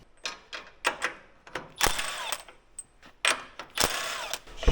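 An impact wrench fitted with a chrome socket rattles in short bursts on farm equipment, a loud, close series of hammering zips and clatters of varying length with brief pauses between, no voices.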